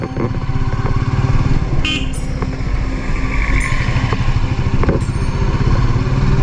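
A motorcycle rides through monsoon rain in Kannur district, Kerala, its engine and wet road noise forming a loud, steady roar, with a couple of brief sharp bursts that may be horns.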